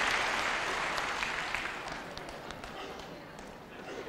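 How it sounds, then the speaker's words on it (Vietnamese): A live audience at a Vietnamese comedy stage show claps, a broad wash of applause that is loudest at the start and slowly fades, somewhat distant and muffled. "xin quý vị một tràng pháo tay"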